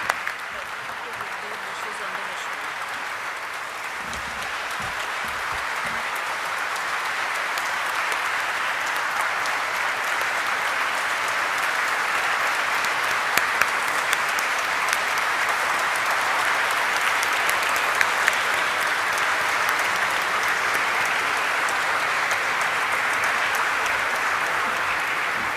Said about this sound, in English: Let's have a huge round of applause once again for Mankind Pharma Limited.